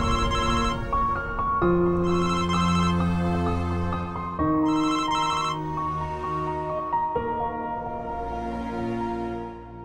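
A telephone ringtone plays a steady, repeating electronic melody, loud and close, looping several times with no voices over it.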